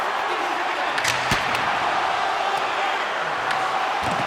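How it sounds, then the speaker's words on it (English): An arena crowd in the NHL 26 hockey video game, at a Vancouver home game in its final seconds, makes a steady wash of cheering noise under continuous play-by-play commentary, with a few sharp knocks and slams. "the home team giving the fans something to cheer and get loud about. Listen to them."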